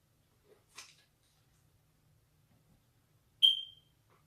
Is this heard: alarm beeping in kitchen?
yes